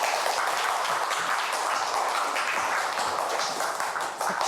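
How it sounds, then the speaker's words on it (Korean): A studio audience at a televised regional forum on local autonomy claps in a steady, even wash of applause, moderately loud and sustained without a break, with no voices over it. "박수 부탁드립니다"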